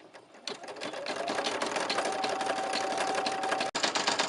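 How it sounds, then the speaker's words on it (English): A Brother PE 770 embroidery machine stitching a Hello Kitty design, a fast even mechanical whir with rapid needle rhythm running steadily, close and loud, with a brief pause near the end. "the machine is going toward completing this embroidery design"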